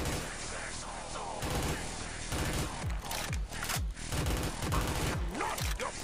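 Rapid automatic gunfire from a video game weapon, an AK-74U, rattles in dense sustained bursts with booming impacts throughout, loud and continuous over a cluttered game soundtrack.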